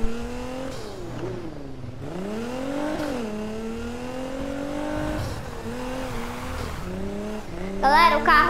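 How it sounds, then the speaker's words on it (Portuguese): A Nissan GT-R engine revs and drifts through rain in Need for Speed, its tone rising and falling steadily as the car slides, loud and continuous, with a voice talking over it and a short squeal near the end. "o carro é estável, porque ele tá fazendo drift porque tá na chuva"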